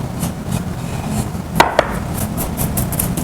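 A knife mincing fresh basil on a cutting board, steady rhythmic chopping thuds, close and moderately loud, with two sharper knocks midway and no talking.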